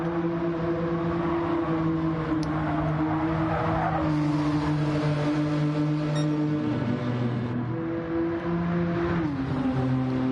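Race cars lapping Tokyo Expressway South in Gran Turismo 7, engines droning steadily with shifting pitch and gear changes, a near continuous loud racing roar with tyre noise, no voices.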